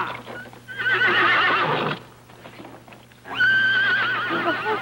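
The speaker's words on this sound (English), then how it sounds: "The horses are frightened." Frightened horses neigh loudly in two long, shrill whinnies close by, with hooves clopping beneath them.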